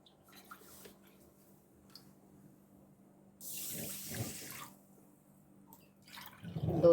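Water pours into a pan holding sugar in a short splashing stream for about a second, then quiet returns before another louder splash near the end.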